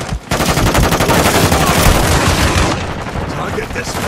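Dense automatic gunfire and rapid shots from a Modern Warfare 2 Domination match on the Shipment map, loud and continuous with booming bursts, game voice callouts mixed in.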